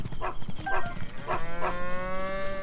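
Sheep in Zelda: Breath of the Wild let out several drawn-out, wavering bleats in quick succession, fairly close and clear, with no talk over them.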